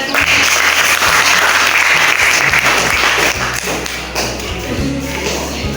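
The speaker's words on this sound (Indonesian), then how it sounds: "Beri aplaus pada" Classmates in a junior high school classroom applaud a student group's presentation, a loud, dense burst of many hands clapping close by, mixed with thumps and taps, that thins out toward the end.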